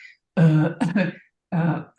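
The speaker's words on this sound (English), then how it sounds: "what is this coughing?" A few harsh throat-clearing coughs in short bursts, close and loud, with brief silences between them.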